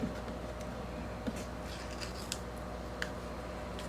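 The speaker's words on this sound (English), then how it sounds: "Let's peel this back up" Sticker being peeled back up off a Happy Planner page, faint close crinkly rustles and a few small sharp ticks and snaps over a quiet background, with no talking.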